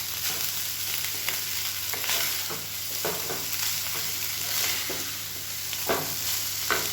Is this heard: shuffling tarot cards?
no